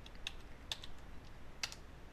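A few light, sparse keystrokes on a computer keyboard, faint, close clicks spaced irregularly against quiet room tone.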